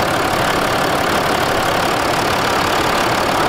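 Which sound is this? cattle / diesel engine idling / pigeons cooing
diesel engine idling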